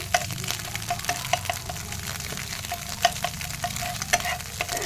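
Egg bhujia sizzles steadily in hot oil in a pan, with regular scraping clicks as a utensil stirs it at close range.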